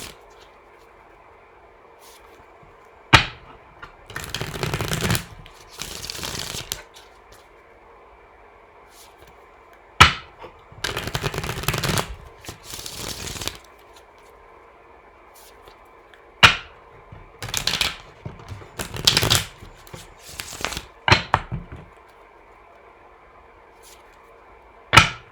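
Tarot cards are shuffled in several separate bursts of riffling and slapping, close and crisp, with quiet pauses and a faint hum in between.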